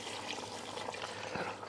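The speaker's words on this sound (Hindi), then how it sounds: "और अब हम मिला देंगे गरम पानी।" Hot water is poured into a curry masala being cooked in a pan, giving a faint, steady, watery trickle and rush across the whole moment.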